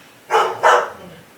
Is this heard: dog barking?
yes